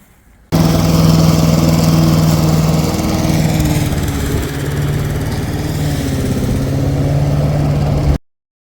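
Lawn mower cutting overgrown grass on a Melbourne lawn, its engine starting abruptly and droning loud and close with a steady hum that dips briefly midway, then cutting off at the end.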